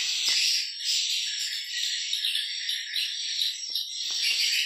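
A small young frog croaks inside a swiftlet nesting building in East Kalimantan, its calls faint against a steady, dense high chirping that fills the room throughout, with a few soft clicks and no talking.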